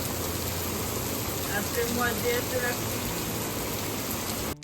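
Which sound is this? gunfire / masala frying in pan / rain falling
rain falling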